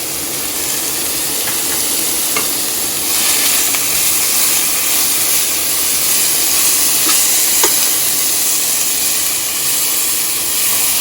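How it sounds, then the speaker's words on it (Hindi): Sugar and ingredients fry in a pan for Kabuli rice, giving a steady, dense sizzle and hiss that runs the whole time, with occasional small clinks of stirring. "इसको आपने 2-3 मिनट तक फ्राई किया है इनको शुगर के साथ"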